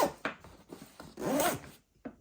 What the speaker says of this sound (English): a bit of a stiffer zipper here